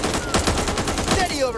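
Rapid automatic gunfire in the co-op zombie shooter Back 4 Blood, a rattling burst of evenly spaced shots, loud and close.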